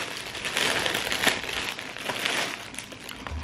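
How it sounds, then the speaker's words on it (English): Plastic packaging crinkles and crumples continuously as it is handled close by around a Louis Vuitton Deauville handbag, with no talking. "it's in the plastic bag."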